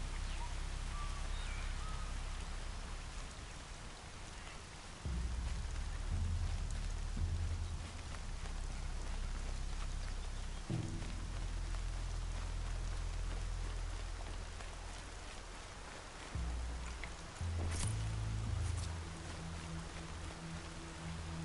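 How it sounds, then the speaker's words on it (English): Steady video game rain patters across the whole stretch, a dense hiss with low rumbling tones shifting underneath at intervals. "I actually can't think of a time when I've been in Meridian and had it raining."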